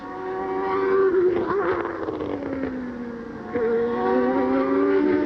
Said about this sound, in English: You're right, the engine is running.